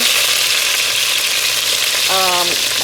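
Chicken pieces for Jamaican brown stew sizzle steadily in a hot pan, a loud, constant fry with a brief clatter as pieces are turned over near the end.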